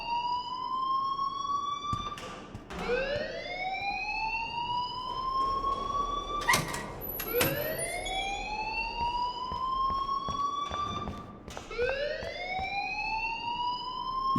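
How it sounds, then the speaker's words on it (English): A fire alarm blares in the video game Life is Strange as a loud siren. Its pitch sweeps up again and again in long rising wails that repeat steadily, with brief sharp clicks between them. "please turn off that alarm since that's your job."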